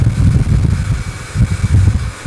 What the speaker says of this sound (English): The great thing about this blow dryer is it's really super light.